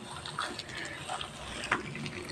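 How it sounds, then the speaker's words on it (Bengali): Milk poured over Eno in a bowl while making eggless fruit cake batter, a soft steady liquid gush over about two seconds, close and fairly quiet. "অল্প যে দুধ বাঁচিয়ে রেখেছিলাম সেটা ইনোর উপর ঢেলে"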